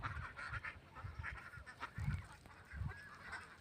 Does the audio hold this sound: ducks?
yes